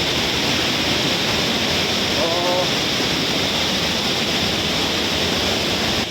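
A constant loud roar of rushing water fills the scene, broad and unbroken, with a faint voice briefly audible beneath it.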